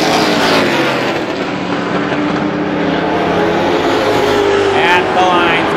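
Race cars roaring around Star Speedway during an outlaw feature, a loud steady engine drone with passing cars swelling and fading, under a commentator's continuous voice.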